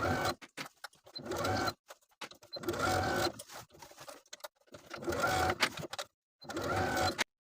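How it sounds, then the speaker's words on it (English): A sewing machine stitches a jacket sleeve into the armhole in four close, loud bursts of rapid whirring, separated by brief pauses of silence. "Now I can take it to my sewing machine and sew the sleeve into the armhole with a 5/8 inch seam allowance."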